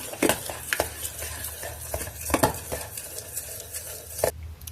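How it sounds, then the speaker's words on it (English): A spoon stirs a bowl of berry chia pudding, producing a quick series of close clinks and soft wet scrapes in an uneven rhythm, heard alone without speech. "so I'm going to stir this up."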